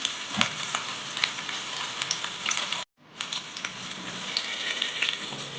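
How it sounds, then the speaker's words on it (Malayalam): Garlic and ginger sizzle and crackle in hot coconut oil with popped mustard seeds, the first step of a traditional Kuttanad duck curry. The frying is close and steady with scattered pops, briefly cut off before resuming. "വെളിച്ചെണ്ണ ഒഴിച്ച് കടുക് പൊട്ടിച്ചിട്ട് അതിലേക്ക് വെളുത്തുള്ളിയും ഇഞ്ചിയും ഇട്ട് നല്ലതായിട്ട് വഴറ്റിയെടുക്കണം"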